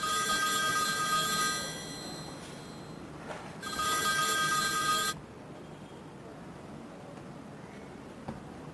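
A telephone rings with a loud, shrill electric bell in two long bursts separated by a short pause, with quiet room noise afterward.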